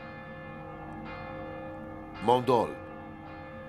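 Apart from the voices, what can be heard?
distant church bells ringing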